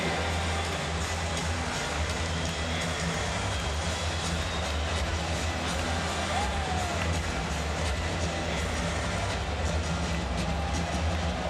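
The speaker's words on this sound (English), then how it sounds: "a big cheer to Mrs. Ute Banke for being Skoda fan of the game" An ice hockey arena crowd at a Latvia–Slovakia world championship game gives a steady, broad roar of cheering and noise that holds at an even level throughout, with no clear breaks.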